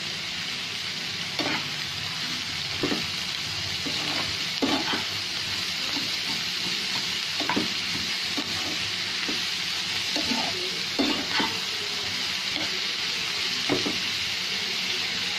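Onions for an onion curry fry in a pan with a steady, close sizzle, while a utensil scrapes and stirs them in periodic soft strokes, with no talking.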